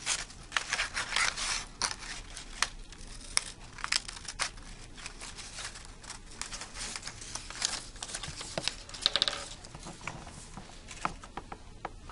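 Scissors snipping into the paper tabs of a folded protein model, a quick series of irregular close-up snips mixed with crinkling and rustling paper, with no talking.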